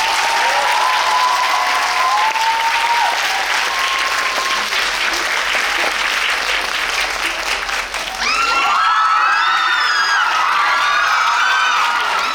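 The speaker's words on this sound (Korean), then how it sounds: "변성현 감독님과 설경구 배우님 큰 박수로 맞이하겠습니다" A crowd at a Bucheon International Fantastic Film Festival talk event claps loudly and steadily to welcome a director and actor, the applause swelling with a few cheers and whoops near the end.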